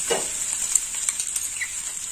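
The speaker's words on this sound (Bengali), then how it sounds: "রসুন অনেকটাই ভাজা হয়ে গেছে, রসুনের কাঁচা গন্ধটাও চলে গেছে।" Garlic frying in a pan for a Bengali chichinga (snake gourd) curry, a steady close hiss of oil sizzle with a few light stirring scrapes, no voices.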